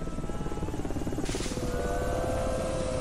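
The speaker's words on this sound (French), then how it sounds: "Pourquoi j'entends un hélicoptère?" A helicopter in the video game Supermarket Shriek gives off a steady rotor thump and engine hum, a low pulsing drone that smooths into a continuous whine partway through, fairly faint in the background.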